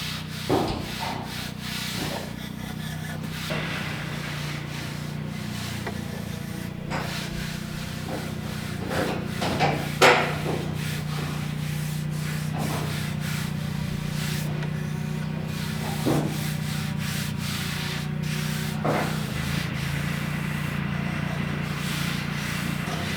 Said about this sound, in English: Also, if you are doing more light work with the belt sander, it's always best to go with the grain.